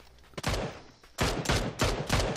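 PUBG gunfire on Xbox One: one shot followed by a rapid burst of several loud, close gunshots.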